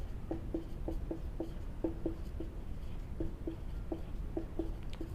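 Pen or chalk writing a math formula during a class-10 real numbers lesson, a series of faint, rhythmic short strokes and taps over a steady room hiss, with no speech.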